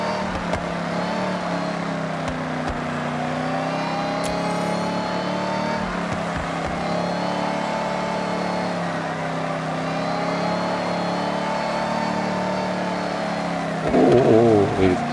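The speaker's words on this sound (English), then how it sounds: "Oh, listen to that supercharger whine." A Nissan R32 GT-R in a racing video game holds a steady engine drone with a high supercharger whine running continuously over it, loud and close, while a voice talks over part of it.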